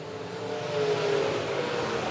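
Stock race car running laps at Monett Motor Speedway, a sustained engine roar that swells briefly as the car passes, heard from trackside at moderate distance with no talk.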